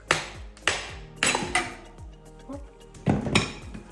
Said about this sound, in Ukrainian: можна легенько постукувати і ось так